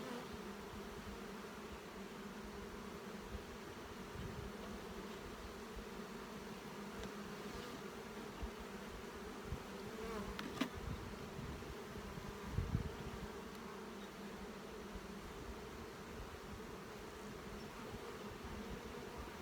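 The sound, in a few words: honeybees buzzing during inspection of wintered nuc colonies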